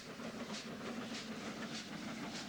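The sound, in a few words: locomotive-hauled train running on rails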